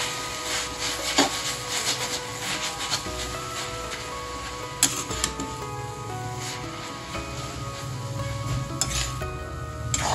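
Chickpea greens being stirred with salt in a pan, a steady scraping and sizzling of a spatula working through the leaves, close and continuous with occasional sharper clinks against the metal.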